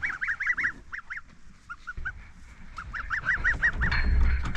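Bursts of high, rapid peeping from young birds come in short clusters, with quieter gaps and faint background noise between them.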